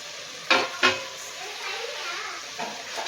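Carrot, beans and potato being stirred into a frying vegetable biryani, with a couple of sharp spoon scrapes against the pot over a steady soft sizzle.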